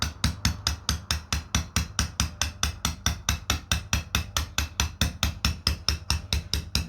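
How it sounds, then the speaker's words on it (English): Rapid, evenly spaced hammer blows strike hard stone, about three or four per second, sharp and close, with no talking. "I'm not choking the hammer as much due to the fact that the stone is so fractious."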